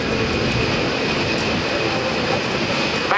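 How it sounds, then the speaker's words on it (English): Pratt & Whitney F117 turbofan engines of a C-17 Globemaster III spooling up to power for takeoff at an air base airshow, a loud steady roar with a high whine held throughout. "Power coming up. Watch this takeoff."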